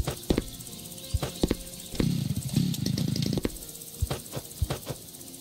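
Sawing logs in the building game House Builder: a low rasping saw stroke runs near and loud for about a second and a half, set among short knocks and clatters of the game.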